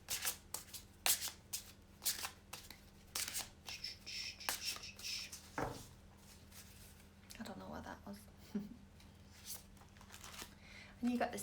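Tarot cards are shuffled by hand during a live tarot reading: a close, quiet run of repeated papery riffles and soft slaps in uneven bursts, with faint background noise.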